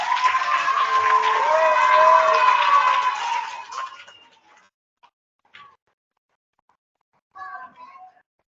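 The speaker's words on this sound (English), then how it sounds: "let's give our IXL award winners a great big round of applause" Kindergarten awards assembly audience applauds the award winners, with children's voices cheering through steady clapping for about four seconds before it fades, leaving a few faint later noises.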